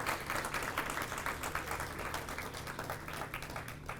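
An audience at a city beautification commission awards meeting claps steadily for several seconds, a close, continuous patter of hands with no speech on top.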